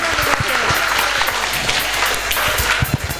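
An audience at a school annual result day breaks into scattered clapping, a short burst of applause with a few voices murmuring underneath.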